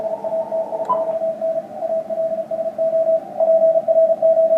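A CW Morse signal on a radio receiver sounds as a steady, piercing single-pitch tone, briefly broken up near the end, riding over a thick bed of hiss and static.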